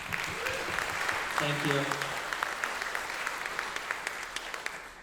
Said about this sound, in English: band, let's clap for them